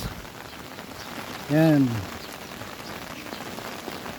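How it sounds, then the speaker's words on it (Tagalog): Steady rain falls overnight into the day on a small flower garden in Bicol, a continuous patter of drops on surfaces, with one brief voice breaking in over the rain. "Kagabi magdamag ng ulan, hanggang ngayon naulan pa rin."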